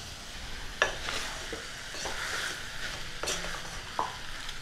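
Mutton sautés in a pan with black pepper, turmeric and salt: a soft continuous sizzle runs throughout, broken by several sharp scraping stirs of a spoon against the pan at irregular moments, with no speech.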